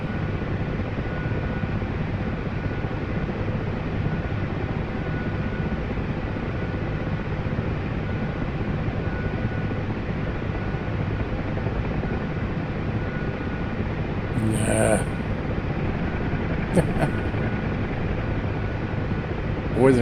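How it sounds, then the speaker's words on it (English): A Mi-8 helicopter touching down nearby in the DCS World flight simulator, with a steady rotor and turbine roar and a few brief clicks near the end, under intermittent talk. "the MI-8 is getting ready to touch down. Hope its rotor wash doesn't affect me too bad"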